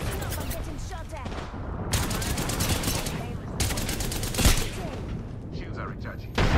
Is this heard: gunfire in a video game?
yes